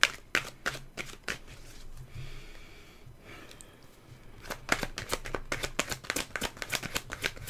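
Tarot cards being shuffled in a steady run of crisp riffling flicks, close and fairly quiet, with a brief lull midway before the quick shuffling resumes.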